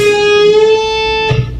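A single sustained electric guitar note whose pitch rises as the string is bent, ringing clearly before a brief pick scrape near the end.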